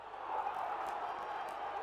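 Football crowd at a Derby County match in the 1994/95 season, a distant, steady roar of cheering that swells slightly and holds.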